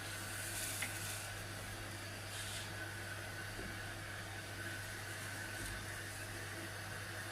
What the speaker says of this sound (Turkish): Soğanlar pembeleşinceye kadar kavuracağız.